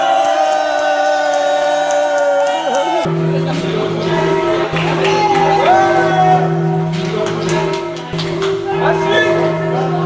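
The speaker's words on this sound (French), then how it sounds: "Applaudissons" Wedding guests at a town hall ceremony cheer and whoop in a loud, sustained crowd roar, with steady held tones running underneath throughout.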